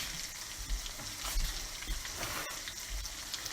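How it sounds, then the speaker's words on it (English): Shrimp for scampi fry in a hot pan, giving a loud, crackling sizzle with bursts of spatter and light stirring close by. "we're going to go ahead now and add our shrimp in."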